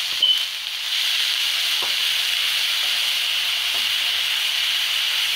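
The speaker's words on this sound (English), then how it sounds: "when the ghee gets heated up, adding some freshly grated carrots." Freshly grated carrots hiss steadily in hot ghee as a carrot halwa cooks. The sizzle is bright and close, starts after a brief clatter and runs on evenly, with a few soft scrapes in the pan and no voices.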